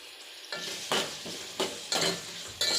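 Tomato and onion mixture frying for veg pulao, a close sizzle punctuated by five or six rhythmic bursts of a spoon stirring and scraping the pan.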